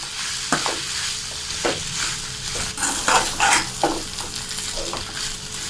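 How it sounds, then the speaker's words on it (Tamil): Crumbled idli is tossed and stirred in a hot pan for idli upma, with soft sizzling and repeated scraping, scooping strokes of a spatula against the pan, close and irregular, without talk. "உதுத்து வச்சிருக்கிற இட்லியை கொஞ்சம் கொஞ்சமாக சேர்த்துடலாம். நல்லா நம்ம பிரட்டி விட்டுக்கலாம்."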